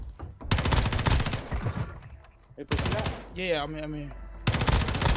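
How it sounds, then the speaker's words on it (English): In the mobile video game Warzone Mobile, loud bursts of automatic gunfire come in three volleys, separated by gaps where someone speaks briefly. "Getting shot at, bro."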